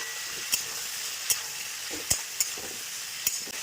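Prawns fry in a pan with turmeric and salt, giving a steady close sizzle, while a spatula stirs them and knocks the pan in about five sharp, spaced clicks.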